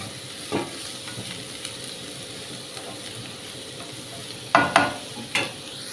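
Onions sizzle quietly in a hot pan with salt, a steady frying hiss punctuated by a few sharp stirring scrapes and clatters, loudest near the end.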